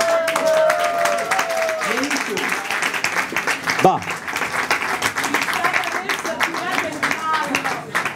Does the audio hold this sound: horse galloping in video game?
no